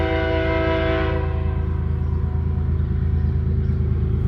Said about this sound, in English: we're probably gonna hear the train honk some more here in just a second